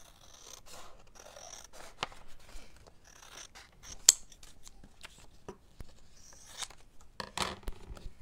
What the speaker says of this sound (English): let's cut this envelope flap off